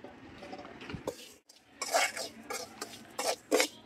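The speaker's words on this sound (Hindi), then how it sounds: "यहाँ लहसुन पीस रहे हैं उसी में" Garlic being ground in a home kitchen makes close, uneven bursts of gritty scraping and rubbing strokes, some sharp and loud, separated by brief quieter gaps, with no talking.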